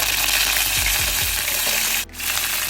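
Fenugreek seeds and curry leaves frying in hot oil for a Sri Lankan-style milk curry, a loud close steady sizzle with a few soft knocks, and the hiss cutting out sharply for a moment near the end before resuming.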